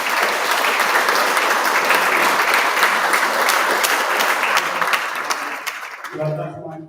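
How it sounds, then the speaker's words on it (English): Audience applause for Jan fills a Cairns Cup opening ceremony, a dense, steady clatter of many hands that tapers off near the end as a voice begins speaking. "So please give Jan a round of applause."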